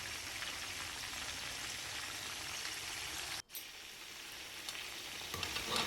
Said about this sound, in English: Gently place the masala-coated fish slices into the pan one by one.